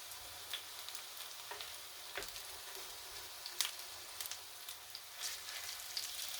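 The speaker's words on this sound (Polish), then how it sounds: "Troszeczkę je podsmażymy." Beetroot vegan burgers fry in a pan, a faint steady sizzle broken by scattered soft crackles and pops, with no voices.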